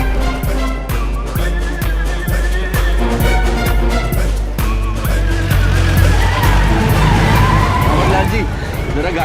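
A car drives fast with its tires skidding in a Hindi comedy film scene, the screech and engine layered under rhythmic music and voices.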